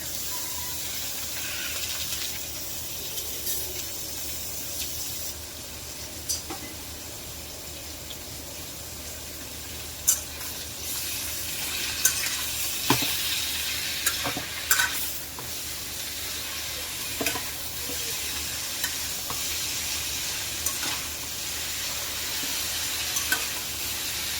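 Bottle gourd leaves frying in a pan, a continuous bright hiss and sizzle of moist greens with scattered spatula clicks and scrapes as they are stirred, steady and close throughout; no speech.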